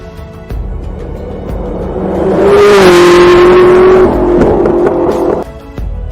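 A SSC Tuatara hypercar engine revs up, its loud rising drone swelling to a sustained high-pitched wail before dropping away, with no voices.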